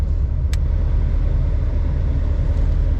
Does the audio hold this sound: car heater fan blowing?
yes